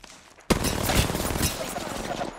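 Gunfire in a competitive one-on-one shooter video game, a sudden dense flurry of overlapping shots that keeps going for about two seconds, fairly loud against a quiet start.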